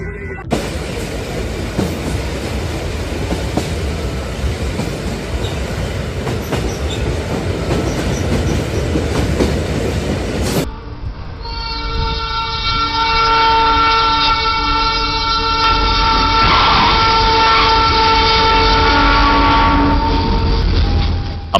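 A train rumbles loudly past a level crossing, then its horn blares in a long, sustained chord over the continuing rush of the cars.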